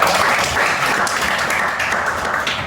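Applause for a student in a chemistry classroom, a short dense burst of many hands clapping close and loud from start to finish, with no voices over it.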